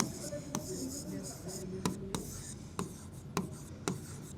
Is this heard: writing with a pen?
yes